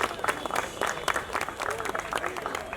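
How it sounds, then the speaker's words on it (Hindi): An audience at a railway jobs seminar run by the Divine Help Foundation keeps up lively applause, with brisk, uneven clapping running beneath someone speaking over a microphone. "आप लोग तालियां मत रुकने मत दीजिए बस,"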